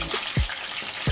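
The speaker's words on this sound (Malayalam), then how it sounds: "കണ്ടോ, നമ്മുടെ ചിക്കൻ ഫ്രൈ ഒരു സൈഡ് നന്നായിട്ടൊന്ന് മൂത്ത് വന്നിട്ടുണ്ട്." Chicken pieces coated in cornflour fry in hot oil with a steady, close crackling sizzle, broken by a few soft low knocks from turning or stirring.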